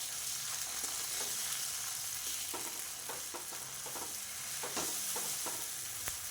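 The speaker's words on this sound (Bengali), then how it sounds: "একদম অল্প আঁচে নাড়িয়ে" A ground paste of white sesame and poppy seed with cumin and dry red chilli cooks in a little oil over very low heat, a soft continuous sizzle broken by irregular scraping stirs, close and alone.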